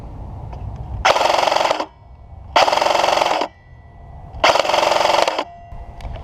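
A Krytac MK2 CRB airsoft gun fires on full auto in three loud, rapid buzzing bursts, each lasting under a second, separated by short pauses.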